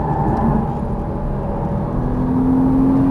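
A Porsche Cayman S engine drones loudly and continuously from inside the car, with a low rumble and a tone that climbs slightly toward the end as it pulls on throttle.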